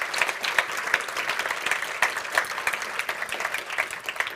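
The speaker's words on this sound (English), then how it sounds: "Please give them a big hand." Audience applause for the technicians at a World Cancer Day project showcase event, a dense, continuous patter of many hands clapping at moderate volume without any speech.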